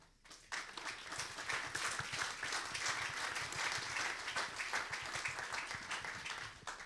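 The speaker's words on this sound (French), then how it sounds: "je pense qu'on peut applaudir" Audience applause at a workshop presentation, a dense, steady patter of many hands clapping at moderate distance, swelling in quickly and sustained to the end.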